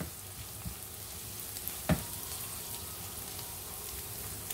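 Soft, steady sizzle of onions frying in a pan for masala dosa potato filling, with a faint crackle throughout and one brief louder clatter near the middle, no voices.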